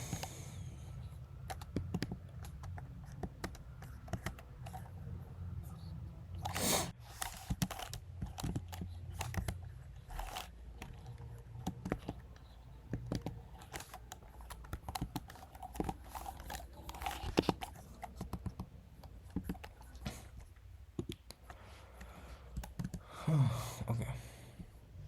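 Quiet computer keyboard clicking as HTML code is typed, irregular bursts of close, light keystrokes with occasional heavier taps, no voice.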